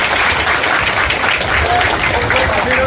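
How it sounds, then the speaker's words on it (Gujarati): A crowd at a gathering honouring a man who flew widowed mothers on a Haridwar pilgrimage claps loudly, a thick, continuous burst of close applause with a few voices mixed in. "અશોકભાઈને આપણે ખૂબ ખૂબ તાળીઓની વધાવી"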